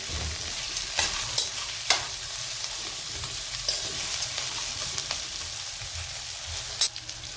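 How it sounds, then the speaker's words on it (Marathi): Roasted peanuts and coriander get stirred into torn leftover chapati in a hot pan, a continuous soft sizzle with scraping spoon strokes and a few sharp clinks against the metal. "आपण आता हे भाजून घेतलेले शेंगदाणे टाकू आणि थोडीशी कोथिंबीर नंतर पण टाकायची आपल्याला, काही आता पण टाकली। त्याला मिक्स करून घेऊ।"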